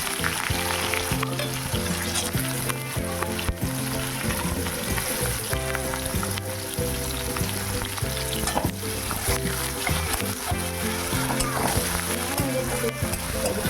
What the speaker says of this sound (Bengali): এবার দিয়ে দিচ্ছি পেঁয়াজ।